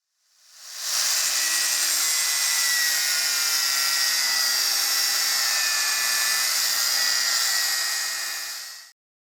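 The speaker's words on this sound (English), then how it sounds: "So it's going to have to be the grinder." A grinder works down a steel ballnut, ramping up to a loud continuous high-pitched whine that holds steady for several seconds before cutting off abruptly.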